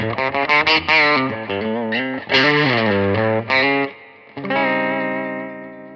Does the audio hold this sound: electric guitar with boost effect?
yes